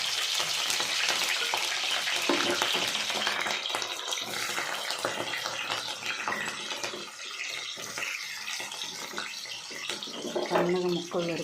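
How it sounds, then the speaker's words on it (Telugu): Mustard and fenugreek seeds fry in hot oil for a fish curry, giving a steady, loud, close sizzle and crackle that fades slightly partway through, with a voice speaking briefly near the end. "ఆయిల్ హీట్ ఎక్కింది కదా, ఆవాలు, మెంతులు వేసాను."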